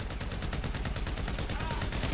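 Rapid automatic gunfire from a video game rattles in a fast, even burst that stays loud and unbroken throughout.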